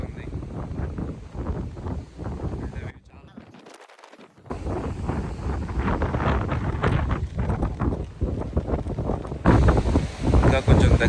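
Wind at Myrtle Beach, South Carolina, roaring steadily across the microphone as a broad rushing noise, with a brief lull midway before it gusts harder toward the end.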